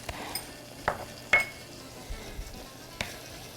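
Garlic and onions sizzle as they brown in a pan for Greek pastitsio, a low background crackle broken by several sharp utensil clicks and scrapes, with no talking.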